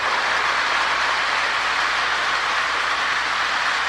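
A long Marx E7 toy train rumbles steadily along its track, a continuous close clatter and whir with no pauses.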